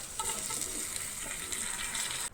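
Pieces of breadfruit go into a pan of frying onions for Goan nirponos bhaji, bringing on a soft, steady sizzle and light hiss, close but quiet, cutting off at the end.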